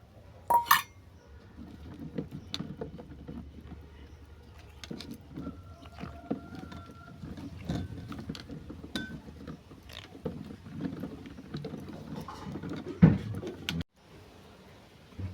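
Raw hog plums (amra) being washed by hand in a bowl of water, with soft sloshing, light patter and small clinks of the vessel continuing steadily at close range.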